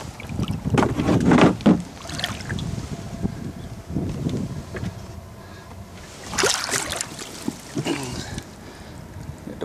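A MOKAI jet boat powered by an intercooled Subaru KX21 engine runs out on the water, its motor droning steadily under gusts of wind noise with a few louder surges.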